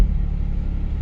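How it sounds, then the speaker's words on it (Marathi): A vehicle at a local cricket match rolls in with a close, steady low engine rumble that lasts about a second before cutting off abruptly. "गाडी आली लक्षच नाही"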